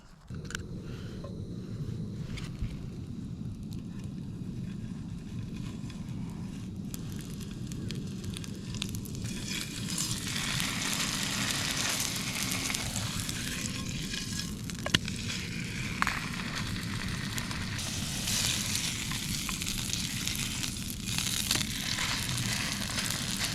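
Steak frying over a campfire while wild camping in a forest, a continuous crackling sizzle that grows louder and brighter partway through, close by and with no talk.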